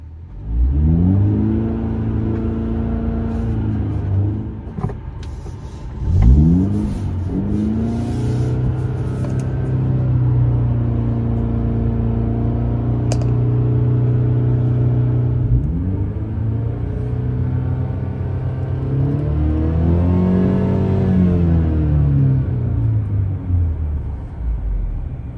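A 2023 BMW 228i Gran Coupe engine pulls through the gears from inside the car, its tone rising in several long sweeps with brief dips at each shift, a steady loud drone in between.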